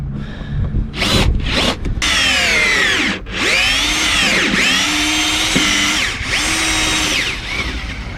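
A power drill bores a hole for a Hydrovane self-steering bolt on a sailboat, a loud close whine that rises and dips in pitch as it bites, broken by short stops and restarts.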